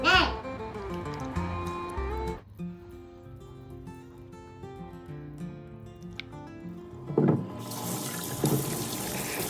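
Sweet potatoes being washed under a running kitchen tap, a continuous splash of water into a sink that shifts as the potatoes are handled, with some voice heard over it.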